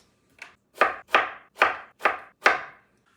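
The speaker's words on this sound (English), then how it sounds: "then we're going to chop them into like fries basically" Potatoes being cut into small fries with a knife on a board, six crisp, evenly spaced chops, close and clear with nothing else in the background.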